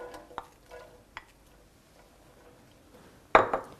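Chopped onions stirred in a pan over medium-high heat, heard as quiet, scattered scrapes and taps of the utensil, with two sharper clatters near the end.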